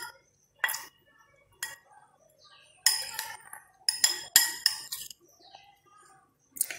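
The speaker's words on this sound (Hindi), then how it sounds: "सभी चीज़ों को हम अच्छे से मिक्स कर लेंगे।" Ingredients for a fruit salad being mixed in a bowl: a series of close metallic spoon clinks and scrapes against the dish, coming in irregular clusters separated by brief pauses.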